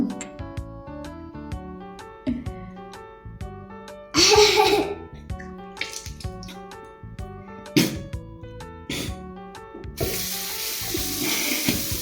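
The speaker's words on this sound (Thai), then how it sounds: "ให้มาวินล้างจมูกเองคือหนึ่งขวดมาวินเทหมดภายในสามครั้ง" Saline water poured from a bottle during a child's nasal rinse: two short, hissing gushes, the second one longer, over steady background music with some faint giggling.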